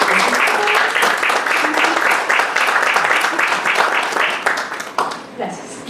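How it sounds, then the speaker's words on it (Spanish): Audience applause for a guest speaker at a cultural governance talk, steady dense clapping filling the room for about five seconds, then thinning out near the end. "Les pido que le den un aplauso a la maestra."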